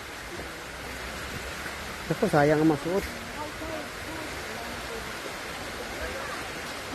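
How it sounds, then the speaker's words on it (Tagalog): Steady rain falls in Bohol as an even, hissing wash of noise throughout, with a short spoken phrase near the middle. "Hindi ba yan? Ulan na."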